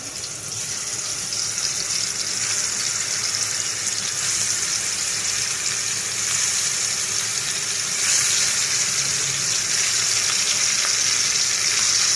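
Katla fish pieces frying in hot oil, a steady, dense sizzle with crackling that holds loud and unbroken throughout, with no voices.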